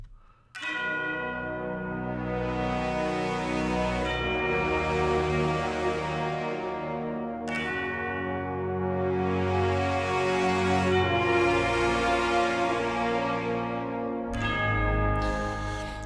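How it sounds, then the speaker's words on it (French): Bright, ringing bells struck in a slow, steady pattern over sustained orchestral music, each stroke swelling and decaying into the next, loud and full. "Les cloches, c'est quelque chose que j'aime bien"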